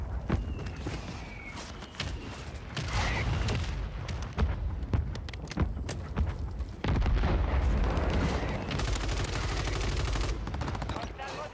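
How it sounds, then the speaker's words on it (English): Mortar strike explosions from the video game Warzone 3 on Rebirth Island, heavy booms and sharp blasts landing in rapid succession, loud and close, mixed with bursts of gunfire throughout. "Another mortar strike"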